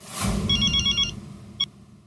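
A telephone rings on an outgoing call, a short trilling ring burst followed by a brief electronic blip, fairly faint against a low background hum, with no talk over it.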